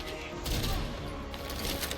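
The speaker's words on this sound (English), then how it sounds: "forward 1, 2, 3 is another string that ends in a gunshot" Deadshot fires a gunshot at the end of a forward 1,2,3 combo in the fighting video game Injustice 2. Sharp sounds of gunfire burst out over dense game noise in a brief, loud moment.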